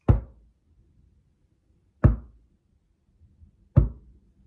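Three sharp knocks against a door, clearly spaced about two seconds apart, each a loud, close hollow thud with a quick decay; produced as an imitation of periodic knocking.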